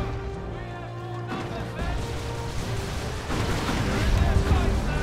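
Ranged weapons fire from plasma guardsmen and stormtroopers in the Dawn of War II: Retribution video game, a dense rumble of shots and blasts that grows louder toward the end, with a voice talking over it.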